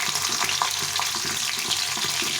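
Green chilies drop into hot oil with nigella seeds and fry, making a loud, continuous close sizzle dotted with small crackles and pops, with no voices.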